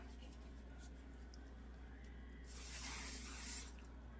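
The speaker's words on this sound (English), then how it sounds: "Now let's see, let's spray this on my other arm here." A quiet room, then a single hissing spray of perfume mist onto an arm lasting about a second, close and fairly loud before fading back to low background hum.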